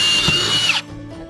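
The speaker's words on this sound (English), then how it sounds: "we added drainage holes with a drill bit and our HART drill" A HART power drill with a quarter-inch wood bit bores a drainage hole in a wooden window flower box, a loud close whine lasting under a second that cuts off abruptly.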